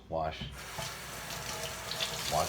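Running tap water splashes steadily into a sink as fruit is rinsed, a continuous close wash with a brief voice at the start and end.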